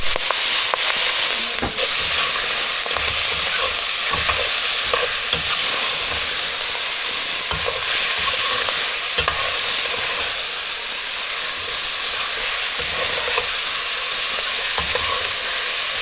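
Freshwater mussel curry being stirred in a pot, a loud continuous hiss and sizzle with steady scraping strokes underneath, close and unbroken for the whole stretch, no talking.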